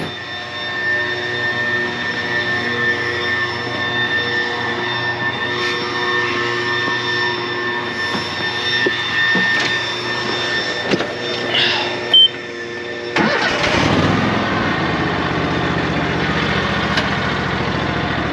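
A lawn mower engine runs at a steady drone with a constant tonal hum, growing rougher and louder near the end, with no talking over it.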